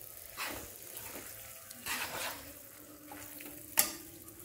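Okra masala being stirred in a pan with a splash of hot water, giving a few soft scraping strokes over a low sizzle and ending in one sharp clink of the spoon.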